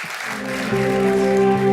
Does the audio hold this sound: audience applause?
yes